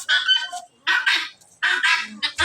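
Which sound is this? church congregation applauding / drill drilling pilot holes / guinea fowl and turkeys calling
guinea fowl and turkeys calling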